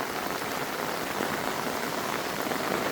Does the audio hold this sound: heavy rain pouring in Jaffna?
yes